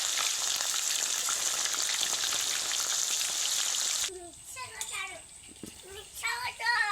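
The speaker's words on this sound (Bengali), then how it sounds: "আপনারা চাইলে অল্প তেলেও পটলগুলো ভাজতে পারেন" Pointed gourds (potol) fry in oil in a home kitchen with a loud, steady hissing sizzle for about four seconds, then the fry drops to a lower crackle as children's voices chatter nearby.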